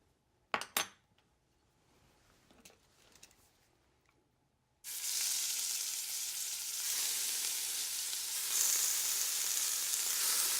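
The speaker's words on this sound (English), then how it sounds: "So I've already started with some oil in my pan and I'm going to brown the turkey." A few clinks of utensils against a pan, then a sudden loud sizzle as turkey hits hot oil, settling into a steady close frying hiss that runs to the end, with no talking.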